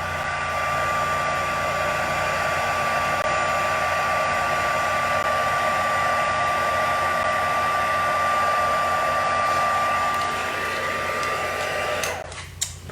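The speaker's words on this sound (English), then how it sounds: "Probably should heat set this one just so that we don't get powder everywhere." Heat tool blowing steadily on a card to set embossing powder, a constant loud whirring hum with a faint tonal whine, running alone for most of the stretch and cutting off with a clunk at the end.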